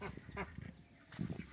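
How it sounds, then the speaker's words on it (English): Ducks on a farm honking and quacking in several short bursts, fairly close and moderately loud, with a busier cluster of calls near the end. "Darn ducks."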